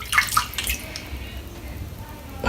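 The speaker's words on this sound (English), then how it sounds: "I'm just going to give it a quick flick in the water" A Head Blade razor cartridge, thick with seven days of stubble, is flicked in water, giving a few quick close splashes and drips at the start before the sound settles into quiet.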